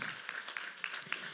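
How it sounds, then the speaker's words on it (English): Audience applause at an award ceremony in Bengaluru, a steady wash of clapping from a crowd with a few sharper claps standing out, fairly faint and continuous throughout. "So let's clap for them once again, audience."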